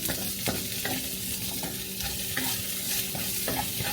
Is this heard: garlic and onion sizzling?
yes